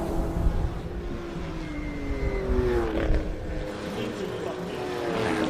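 A classic Porsche climbs the course at the Simola Hillclimb, its engine note rising and falling in the middle distance under a race commentator's voice.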